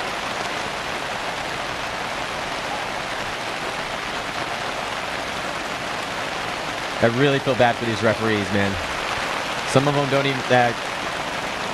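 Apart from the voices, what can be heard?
heavy rain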